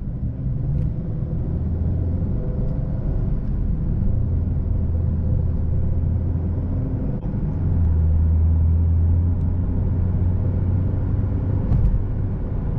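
Steady engine rumble and road noise from a 2011 Chevrolet Equinox LT on a test drive, continuous and fairly loud inside the cabin, with a slight rise in level partway through.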